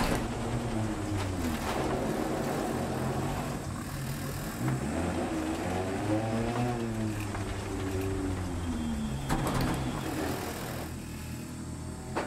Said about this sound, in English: You can hear the engine steaming away.